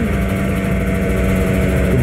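A steady, loud Kawasaki Ninja RR motorcycle engine drone held at a constant pitch, rumbling low throughout without pause, on a Jakarta street at night.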